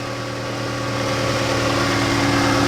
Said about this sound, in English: It's idling down right now, just cold start.